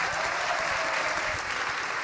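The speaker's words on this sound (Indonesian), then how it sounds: "Tepuk tangan buat Mbak Happy" Crowd applause at a large Islamic religious gathering, a dense, even wash of many hands clapping steadily without pause, moderately loud and slightly distant.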